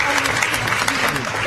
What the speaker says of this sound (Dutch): kunnen we er alvast een applaus geven?